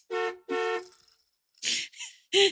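A car horn honks in several short blasts: two evenly spaced toots, a pause, then three quicker bursts, loud and close with nothing else around.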